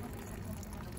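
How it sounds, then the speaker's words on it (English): Quiet liquid pouring into a cup, a brief continuous trickle and fill close by, with no talk over it. "Just pour it in this cup."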